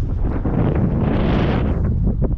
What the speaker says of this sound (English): Sorry, it's probably windy.